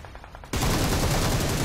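Gunfire in the battle royale game PUBG starts abruptly after a quiet half-second, then runs as a dense, loud, continuous burst of automatic shots to the end.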